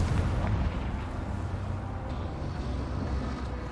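Confringo fire spell from Hogwarts Legacy bursts into a sustained, heavy low rumble that rolls on without pause for a few seconds, dense and booming like a continuous explosion with no voices over it.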